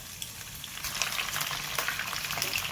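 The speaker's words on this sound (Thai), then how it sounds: "ฉาให้หนังมันตึงสีออกเหลืองๆประมาณนี้ก็พอนะครับผม" Chicken feet frying in hot oil, giving a steady, close crackling sizzle that runs throughout with small bursts of spitting and no talking.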